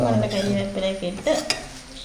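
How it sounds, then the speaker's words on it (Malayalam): Steady scraping and stirring of chutney powder roasting in a hot pan with a soft sizzle, a few sharper clinks of a spoon against metal, no voices. "നല്ല ഇളക്കി കൊടുത്തോണ്ടിരിക്കുക"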